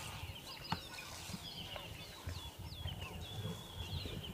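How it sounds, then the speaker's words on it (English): Cape turtle doves and ring-necked doves call at sunrise in a safari valley, faint and distant, with scattered bird calls and chirps over soft outdoor ambience. "Plenty of white-browed scrub robins, doves, cape turtle doves, or ringneck doves calling all the way down the valley."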